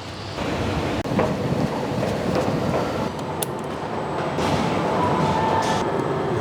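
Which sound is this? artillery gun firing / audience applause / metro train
metro train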